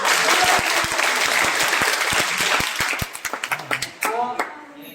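Loud clapping by participants at a village-level community training programme for the Jal Shakti Mission, a dense group burst that thins into scattered separate claps and ends with a few spoken words.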